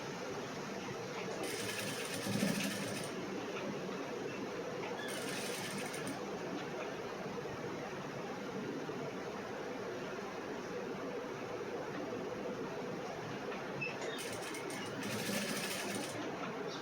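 A sewing machine runs steadily for the whole stretch while a cross-cut blouse is stitched, a continuous close whirring with a few brief louder bursts, no talking.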